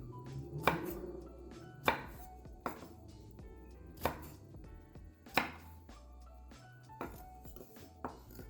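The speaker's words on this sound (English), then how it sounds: "Go ahead and mince a couple cloves with this." Garlic cloves being minced with a knife on a cutting board, a series of about eight sharp, evenly spaced chops heard up close with no talking.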